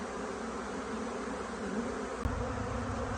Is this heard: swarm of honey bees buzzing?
yes